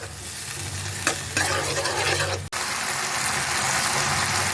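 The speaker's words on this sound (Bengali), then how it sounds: "দিয়ে এটা আমি ভালো করে কষিয়ে নেবো মশলাটা" Masala with turmeric, salt and two green chillies sautéing in hot oil in a pan, a steady close sizzle with stirring scrapes and a brief clatter midway, no voices.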